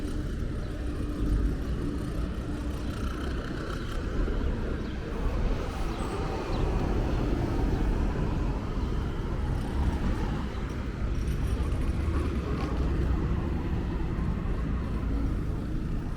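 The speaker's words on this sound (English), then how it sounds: "It is a busy traffic route that heads north." Northbound traffic streams along busy 10th Avenue in New York City as a continuous mid-level wash of engines and tyre roar, with no talking.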